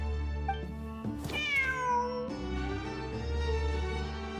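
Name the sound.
cat meowing in a video game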